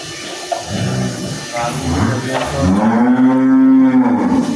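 Cows low on a dairy farm: a few short grunting moos, then one long, loud, close drawn-out moo at the end, heard without talk.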